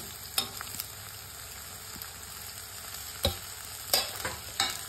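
Ginger garlic paste frying with browned onions in a pan for jackfruit curry: a soft, steady sizzle broken by several sharp scrapes and clacks of a spoon stirring.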